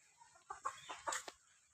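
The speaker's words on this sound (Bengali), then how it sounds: "দেখে নেন বৃষ্টি আসতে মোরগ আবার" Farmyard chicken sounds recorded outdoors as rain approaches in a rural yard: a rooster gives a faint series of short, uneven clucking calls over about a second, fairly distant and quiet, with no talk.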